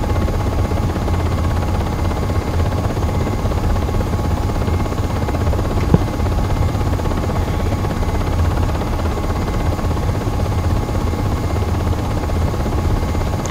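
UH-60M Black Hawk helicopter flying a traffic pattern in the Aerofly FS 4 flight simulator, a steady, loud rotor and turbine drone that holds evenly throughout, with no talking.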